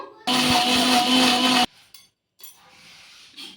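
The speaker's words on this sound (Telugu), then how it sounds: "ఇప్పుడు ఇందులోకి కొంచెం నీళ్ళు అనేది వేసుకొని మెత్తగా మిక్సీ పట్టేసుకుందాము" A mixer grinder blends ridge gourd peel with green chilies and water, a loud, steady whirring motor burst of more than a second that cuts off abruptly and is followed by faint clinks and handling sounds.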